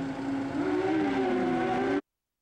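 A pro street drag-racing motorcycle launching into a wheelie at a Valdosta, Georgia race, a loud rising engine whine with harmonic pitch sweeping upward, heard from a distance, cutting off abruptly after two seconds.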